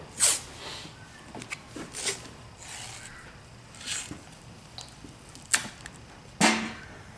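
A strip of tape torn and pulled off a roll while wrapping a boxer's hand, heard as several short ripping bursts spaced a second or so apart, close and fairly loud in a quiet room.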